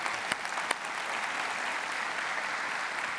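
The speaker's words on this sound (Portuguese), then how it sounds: "E vamos aplaudir a Jesus" A congregation at a televised Brazilian evangelical service applauds steadily, the dense clapping sustained from start to finish with a few sharper claps standing out near the beginning.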